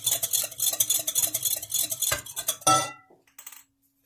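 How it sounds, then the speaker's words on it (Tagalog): Egg being scrambled in a bowl with a utensil, a quick steady clatter of strokes against the bowl that speeds along for a few seconds, then a couple of louder knocks before it stops, close up with no talking. "i-scramble ko muna ang egg"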